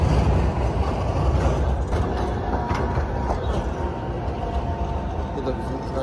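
A tram rolls past in an Italian city with a Venice-like setting, a steady broadband rumble throughout with faint rail clatter, fairly close and continuous with no clear talk over it.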